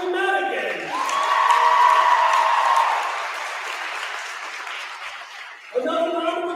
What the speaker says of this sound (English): Another round of applause for our Warren and Corry seniors.